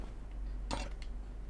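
A frying pan handled in the cooking game Chef Life gives a short metallic clink, with a fainter clink just after, over a low steady background hum.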